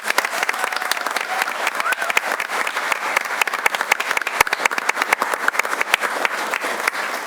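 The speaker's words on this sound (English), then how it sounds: "One more round of applause for our recipients." A room at a school board of education meeting fills with sustained, dense clapping for award recipients, steady and fairly loud throughout with no break.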